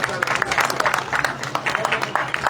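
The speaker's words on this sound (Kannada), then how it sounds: "ಒಂದ್ಸಲ ಚಪ್ಪಾಳೆ ಬರಲಿ ಜೋರಾಗಿ." Applause breaks out from an audience at a Dr. Rajkumar birthday song event as a garland is brought to honour a guest, with dense clapping, voices mixed in.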